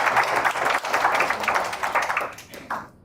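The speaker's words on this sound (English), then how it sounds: "applause." Applause from the audience at a finance research competition final in Uganda: a dense patter of clapping that holds steady, then thins and cuts off near the end.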